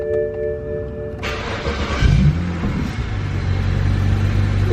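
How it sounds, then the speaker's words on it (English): A BMW car with an N54 engine and a fueling issue cranks and catches, then settles into a steady idle rumble at close range. "let's try to start the car."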